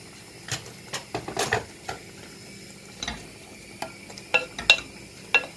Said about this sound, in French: c'est juste pour que la viande cuise en fait